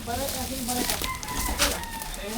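A fighting rooster crows and clucks close by over a noisy background, while people talk alongside.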